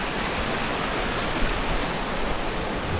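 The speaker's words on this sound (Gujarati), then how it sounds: "આ છે મધવંતી નદી" Continuous broadband rushing of flowing water, steady and fairly loud, at the source of the Madhuvanti river in Gir, close by, with no voices.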